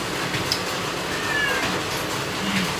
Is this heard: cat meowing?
yes